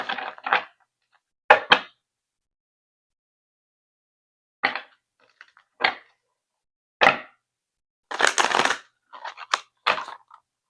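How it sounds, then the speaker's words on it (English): Playing cards riffle and snap in short, crisp bursts separated by silent gaps, close and fairly loud, with a longer flurry of shuffling toward the end. "I'm gonna shuffle"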